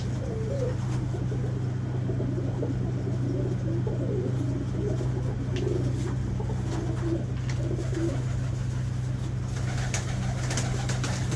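Domestic pigeons kept by a pigeon fancier coo repeatedly in soft, throaty calls over a steady low hum that runs underneath the whole time.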